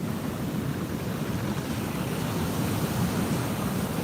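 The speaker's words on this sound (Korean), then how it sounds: "징글징글한 이 파도" Waves of the East Sea crash and wash onto the shore in a steady, loud roar that fills the whole stretch, with wind buffeting the microphone and no talking.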